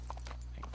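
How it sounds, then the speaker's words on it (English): Horse hooves in Red Dead Redemption 2, a few quick clip-clop hits over a steady low hum, faint and brief. "Can't you control that damn horse?"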